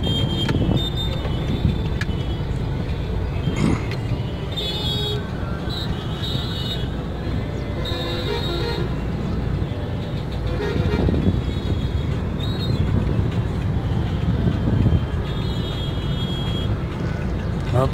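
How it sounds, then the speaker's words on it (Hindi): Evening road traffic near Sindhi Camp in Jaipur at around 7 to 8 PM makes a dense, steady rumble of engines, with car horns tooting here and there in the slow-moving jam. "यहाँ पर इस समय ट्रैफिक है।"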